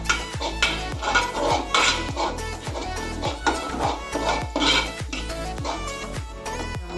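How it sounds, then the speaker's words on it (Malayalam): Green beans stir-fried with chilli in a pan, stirred continuously: rhythmic scraping and clinking of a utensil against the pan, loud and close, repeating steadily throughout with no talk. "ഇടവിടാതെ ഇളക്കുക."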